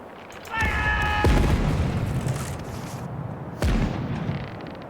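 Side cannons on a ship fire a broadside in the Caribbean Legend video game, two deep booming blasts about three seconds apart over a steady rumbling background.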